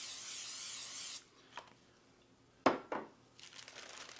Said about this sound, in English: spray that wax paper.